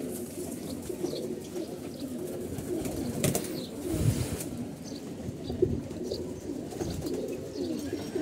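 Pigeons coo steadily in low, throaty rolls, fairly close and continuous with no talking over them.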